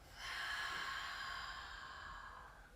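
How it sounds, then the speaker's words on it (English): One slow, deep exhale during a yoga and breathwork session, a soft airy rush of breath close by that swells quickly and tapers off over a couple of seconds. "breathing into the nose and breathing out through the mouth"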